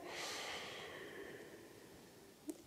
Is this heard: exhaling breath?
yes